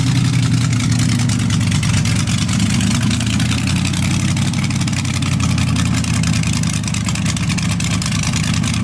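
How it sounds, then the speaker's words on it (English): Modified rat rod engine idling loudly at a busy car meet, a steady deep rumble with a lumpy, uneven throb that holds close and constant throughout. "Something over there sounding extra crazy."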